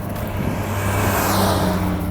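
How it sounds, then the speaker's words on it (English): Steady road traffic rumbles and swishes past nearby, with engines droning and a vehicle passing close by. "There's lots of traffic coming across right here."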